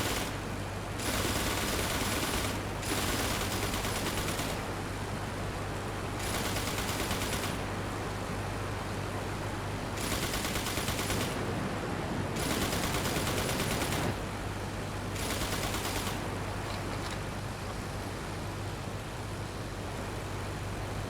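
A WWI plane in Flying Circus fires its machine guns in repeated long bursts, harsh rapid rattling over a constant low engine hum, with short pauses between volleys.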